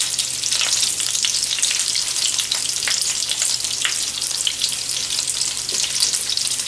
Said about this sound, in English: That's that sausage. It fries up nicely.